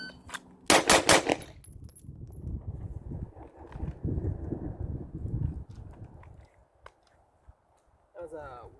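A quick string of about four sharp gunshots rings out at a shooting range during a timed split drill. Then people talk over quieter rustling, with a few faint clicks near the end.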